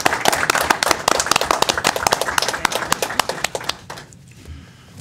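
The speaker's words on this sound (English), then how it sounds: "Well, how about we give them a round of applause first?" A small group claps at a school board of education meeting, individual hand claps distinct and fairly close, tapering off into near quiet over the last second.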